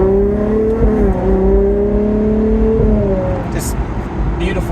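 A Ferrari 812 GTS V12 launches and pulls hard, its engine tone rising through the revs, dropping at a gear change, then climbing again, loud and close, with someone speaking over it.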